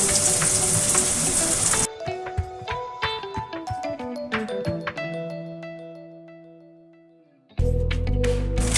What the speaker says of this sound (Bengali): ভাজা ভাজা হলে দিয়ে দিব পেঁয়াজ আর একই সাথে এই আলুটা দিয়ে দিব